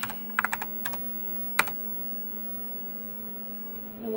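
Keys clack on a Tandy 1000 SX computer keyboard in a short flurry of close, crisp strokes, then a pause and a single louder key, over a steady low electrical hum.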